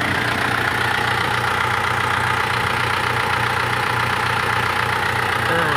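An Isuzu Buddy pickup with its original engine idles close by, a steady, smooth, even running hum that holds constant throughout with no voices.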